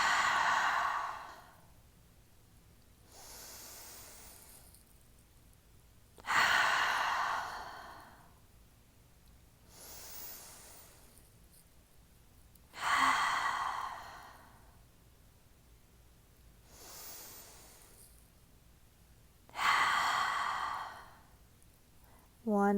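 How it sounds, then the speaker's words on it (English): Slow deep breaths during a yoga flow, each a long audible exhale in a regular rhythm about every six to seven seconds, close and breathy with quiet pauses between. "Let's take 5 slow, deep breaths here."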